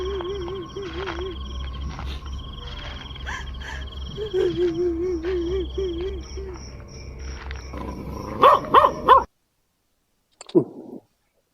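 A few sharp dog barks burst out near the end, following a stretch of wavering animal cries over a low steady hum and faint voices, at a forest campsite.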